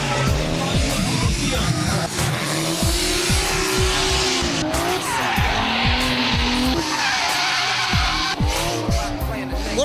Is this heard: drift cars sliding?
yes